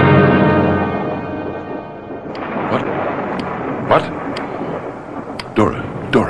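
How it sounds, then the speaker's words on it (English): Radio drama thunderstorm effect: a low rumbling roll fades, then sharp thunder cracks and bursts strike several times over a steady rushing rain-like wash, loud and close. "It's only the storm, dear."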